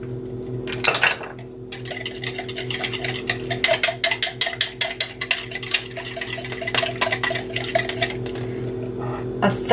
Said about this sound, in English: First, I'm going to whisk 2 eggs, add a little black pepper